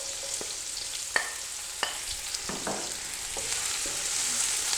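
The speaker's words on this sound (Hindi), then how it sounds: "प्याज डालने के बाद हमने प्याज को सौते कर लेना है" Onion frying in half a cup of oil inside a pressure cooker, a soft steady sizzle broken by sharp clicks and scrapes of a spoon stirring against the metal pot.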